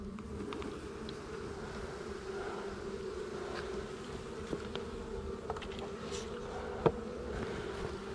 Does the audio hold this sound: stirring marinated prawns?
no